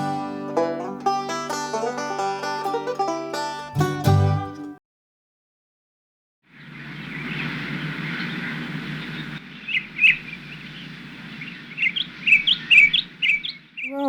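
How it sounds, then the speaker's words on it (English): Field recording of wild bird song from Victoria, Australia: a stretch of music gives way to a brief silence, then steady outdoor ambience with bright, repeated chirps and tweets growing busier toward the end. "we'd collect these bird songs, and then we'd bring them home"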